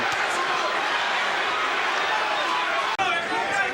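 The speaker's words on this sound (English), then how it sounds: "Now you can hear the crowd again, Duran, Duran." A packed arena crowd roars at a Sugar Ray Leonard versus Roberto Duran boxing match, a thick, continuous wall of cheering and chanting with a commentator's voice over it.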